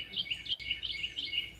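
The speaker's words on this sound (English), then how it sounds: "The birds are a little less skittish about getting on the banister of the porch and whatnot." Small birds chirp outside on a porch, a run of short, bright tweets repeating in quick clusters, fairly close and clear over a quiet background.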